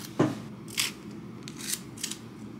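Crisp, close crackles and snaps as the papery skin is peeled from a shallot, coming as four or five short bursts over a low background hum.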